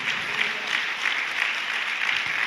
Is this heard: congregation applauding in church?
yes